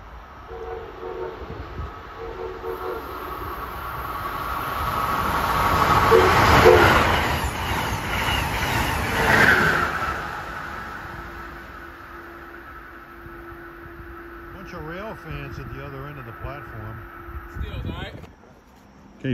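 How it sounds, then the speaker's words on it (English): An Amtrak Keystone train passes cab car first on the Northeast Corridor, its rumble swelling to a loud peak with a horn blast before easing into a steady roll, while people talk over it. "Approaching at 4:48 is Amtrak 651, Keystone, New York, Harrisburg,"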